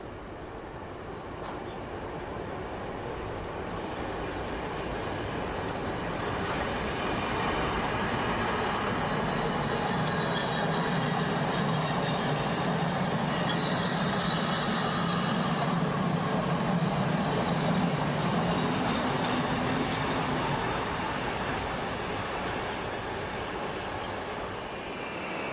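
A Berlin S-Bahn train rumbles past on the elevated Stadtbahn at Museumsinsel, swelling to a long steady roar mid-way and slowly fading, with a broad hiss over the low rumble.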